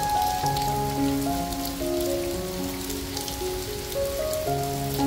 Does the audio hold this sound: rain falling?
yes